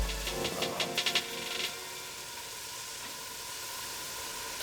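Pancetta frying in a pan, a steady close hiss and sizzle that follows a few brief clinks and stirring knocks at the start.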